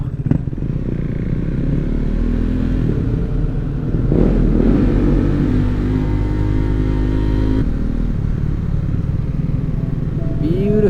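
A KTM 690 Duke R motorcycle fitted with an Akrapovic full exhaust system revs loudly and close by, with a deep single-cylinder rumble rising and falling through several throttle blips. Excited voices are heard over it.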